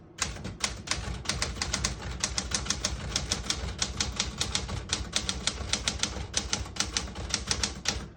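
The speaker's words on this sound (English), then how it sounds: "Beautiful typing machine." Rapid keystrokes on a Smith-Corona Galaxie Deluxe manual portable typewriter clatter in an uneven, continuous rhythm, with sharp metallic strikes close up and no voices.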